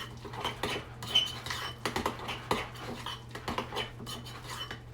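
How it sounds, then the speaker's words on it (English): A spoon stirs oatmeal in a bowl or pot, giving continuous soft scraping and clinking against the dish, with a low steady hum beneath and no talk. "Give it a quick stir."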